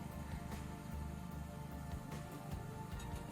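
Rain falls steadily on a parked car at the top of Signal Hill in Cape Town, a soft, even patter heard faintly from inside.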